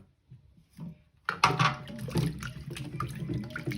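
Mushrooms are washed under a running tap in a kitchen, with a soft knock and then a steady gush of water splashing over them, close and continuous.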